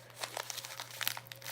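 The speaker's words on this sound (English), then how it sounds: "I can't get it open. It's got this piece of tape here." Packing tape being pulled and crinkled on a package during unboxing, with quiet irregular crackling and crinkling bursts, close and soft, over a steady low hum.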